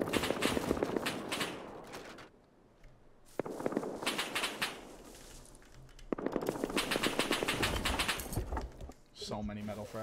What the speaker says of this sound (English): I keep shooting that shit